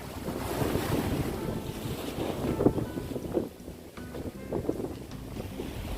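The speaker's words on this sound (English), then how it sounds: "The fresh air is blowing." Steady wind gusts buffet the microphone at a seaside shore in Zanzibar, Tanzania, with a rushing roar of moving air and surf that swells and dips throughout, loud and close with no talking.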